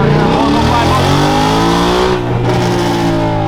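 A Whipple-supercharged Ford Mustang Coyote engine roars aggressively nearby, pitch climbing then dropping sharply at a gear change before revving up again.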